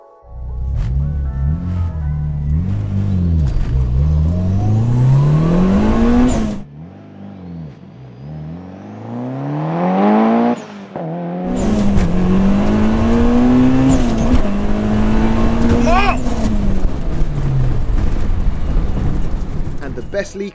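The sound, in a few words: 500HP Mitsubishi Lancer Evo 7 accelerating in 0-60 run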